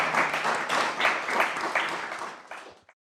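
A live audience applauds a panel of speakers at a morning event on UK fusion energy, with steady clapping for a few seconds before it thins out and ends abruptly.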